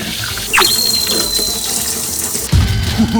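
Tap water runs steadily into a kitchen sink as vegetables are rinsed for tanghulu, with a squeaky faucet turn near the start and a heavier splash and clatter toward the end.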